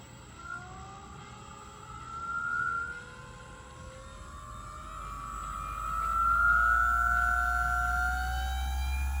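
A Saker cordless buffer polisher motor whines up to full speed, its pitch climbing steadily and growing louder toward the end, a continuous rising tone over a low steady hum.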